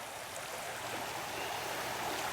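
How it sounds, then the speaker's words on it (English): Snow-melt water rushes strongly down a small creek, a steady, broad, unbroken roar of flowing water with no voices. "The waters of Frog Creek, flowing strongly and proudly."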